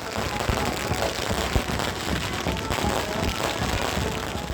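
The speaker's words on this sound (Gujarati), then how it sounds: "આ બંનેના સ્વાગત માટે ખાસ આતશબાજી પણ કરવામાં આવી." A dense run of firecrackers crackles and pops continuously, loud and close, at a wedding welcome celebration in Jamnagar, India, with faint crowd noise mixed in.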